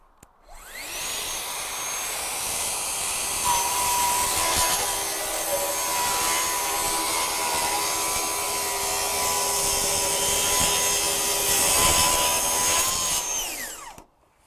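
A Festool TSC 55 cordless plunge saw runs and cuts for over ten seconds, a loud, steady whining roar with a rising pitch at start-up and a tapering wind-down at the end, heard alone.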